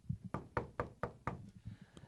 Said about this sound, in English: They're just going to stand there and knock the whole time.